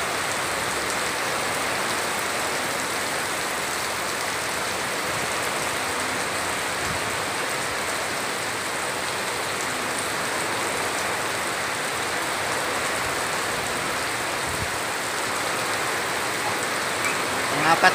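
Heavy rain pours during a low-pressure storm with strong wind, making a dense, steady, close hiss that stays constant and loud throughout with no letup.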